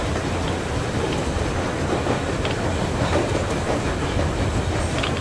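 Steady rumbling train ride in Metro Exodus, continuous rolling rail noise with faint rhythmic clatter throughout, loud and close with no voices.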